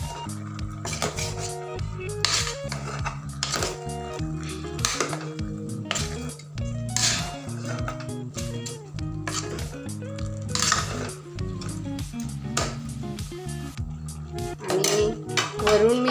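Mixed vegetables stirred with green chillies and spices in a metal pot: repeated scraping and clinking of a spoon against the pot in an irregular steady rhythm, close and clear throughout.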